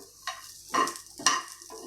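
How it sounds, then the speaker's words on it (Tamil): Small pieces of coconut roast in a dry pan without oil, with a few short, quiet scraping stirs at irregular intervals and brief pauses between them. "தேங்காயை நல்லா பொன்னிறமாக வறுத்துக்கணும்"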